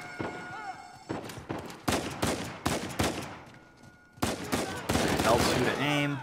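Gunfire from Uncharted 4 during a chaotic firefight, sharp shots coming in clustered bursts with short gaps, mixed with shouting voices and battle noise.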